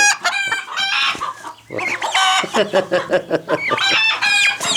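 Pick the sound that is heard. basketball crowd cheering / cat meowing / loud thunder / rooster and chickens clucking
rooster and chickens clucking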